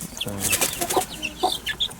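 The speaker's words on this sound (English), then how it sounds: "a hen that is looking after chicks can be quite aggressive to other hens as well" Hens cluck close by while one hen tends her chicks, with a series of short, rhythmic clucks and a few higher chirps packed into a couple of seconds, loud and clear.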